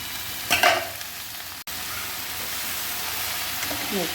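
Leafy greens hit a hot frying pan with a sharp sizzle and are stirred, a steady frying hiss with a few scraping spoon sounds close by in a home kitchen.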